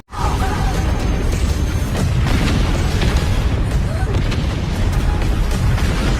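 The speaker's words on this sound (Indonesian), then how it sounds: "dari tekanan kuat yang dilepaskan sama Toru bikin asteroid pada meledak pas Toru melintasinya." Loud, continuous rumbling blasts with booming low end and crackling bursts, sustained without pause like a series of explosions, as asteroids explode in an animated sci-fi series.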